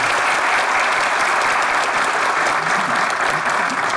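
Studio audience at a televised comedy sketch show breaking into applause, a loud, dense, continuous clapping that stays level for the whole stretch with no talk over it.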